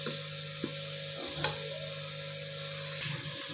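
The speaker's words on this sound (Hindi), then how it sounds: "हम मुसलसल चम्मच को हिलाते जाएंगे" Onions frying in a pan for mutton korma while a spoon stirs them continuously, a steady close sizzle with a few soft scrapes and one sharper clink, no talking.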